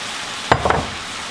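Onion, pepper and spices drop into ground beef cooking for sloppy joes, giving a brief pair of clattering scrapes and rustles over a faint background sizzle.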